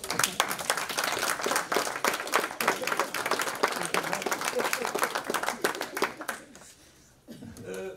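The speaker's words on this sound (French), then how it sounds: "je vous demanderai de l'applaudir encore" Applause from an audience for speaker Francis Dubois at a talk on Abd El Khader, sustained dense clapping with a few chuckles that fades out near the end and gives way to a voice.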